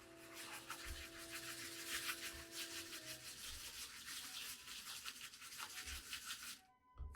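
A wet badger shaving brush whips soap into lather for a safety-razor shave, giving a steady, fast scrubbing and swishing rhythm that runs continuously and close-up before stopping abruptly near the end.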